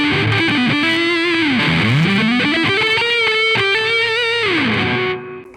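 Electric guitar played with overdrive through an amp modelled on a Line 6 Helix, a thick distorted riff with sliding bends and sustained notes, loud and close, ending as the chord cuts off.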